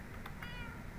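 Cats meow in Minecraft, with two short, faint mews heard over a soft background hum.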